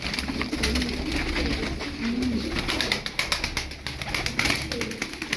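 Tumbler pigeons coo softly and repeatedly close by, their low throaty calls overlapping, with rustling and fluttering in the background.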